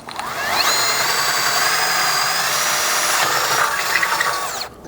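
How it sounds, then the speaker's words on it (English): A 1/4-inch drill bit bores a mounting hole into a Ford Ranger's factory rear bumper housing, a steady loud whine that spins up, holds for several seconds, then winds down with no talking. "grab a 1/4-inch drill bit and using our bracket as a guide, drill your mounting hole into that factory housing"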